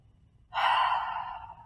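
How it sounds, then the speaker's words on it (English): A single deep breath taken in a yoga tree pose, a loud, steady airy exhale rising abruptly and sustained for about a second before easing off, heard alone and close. "Take a grounding breath."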